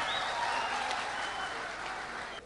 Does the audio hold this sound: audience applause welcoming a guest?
yes